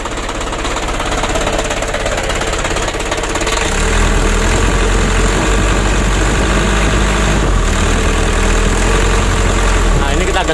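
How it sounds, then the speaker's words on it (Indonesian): A misfiring 120 PS Ragasa truck engine runs rough at part throttle, shaking the cab: a loud, steady, uneven low rumble with a rapid knocking stutter throughout, growing heavier partway in, close and continuous with no speech. "Ya menurut saya ciri khas 120 teman-teman ya, itu berebet begitu"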